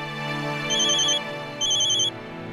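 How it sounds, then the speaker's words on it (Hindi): A phone ringtone plays in two repeated electronic chime bursts over a steady musical backing, loud and close, with no talking. "जीजू का फोन है"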